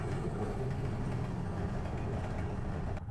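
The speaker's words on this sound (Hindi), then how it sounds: "ट्रेन आ रही है जी।" A train rumbles steadily nearby, a dense low roar that holds continuous and loud throughout, tapering slightly at the very end, heard while on a 70cc motorbike ride toward Banjosa Lake.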